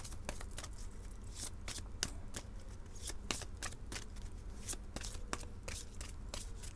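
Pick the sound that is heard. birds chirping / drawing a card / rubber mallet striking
drawing a card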